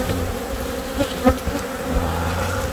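Honeybees swarm around a hive during relocation, a dense continuous buzz close by with a few individual bees droning nearer for a moment.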